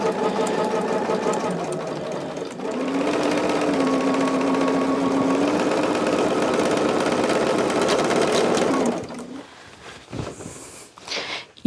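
A sewing machine stitches two quilt halves together, its motor whirring steadily and close for several seconds, then stopping and giving way to light fabric handling and clunks.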